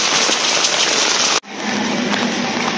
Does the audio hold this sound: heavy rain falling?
yes